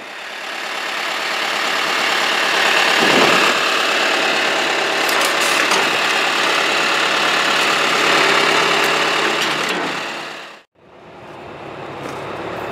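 Husqvarna 365 chainsaw with a 48mm top end, just reassembled, running loud and steady with a rough buzzing drone, cutting out abruptly near the end before restarting.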